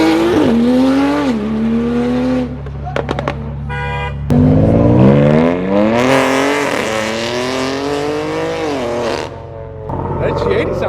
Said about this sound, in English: That G80 sounded nice.